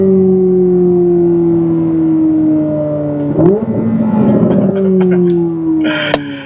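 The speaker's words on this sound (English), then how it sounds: "Oh man, couple downshifts," A Chevrolet Corvette C8 Z06 engine drones steadily, then blips sharply through a couple of quick downshifts before settling back into a sustained tone, loud and close from inside the car.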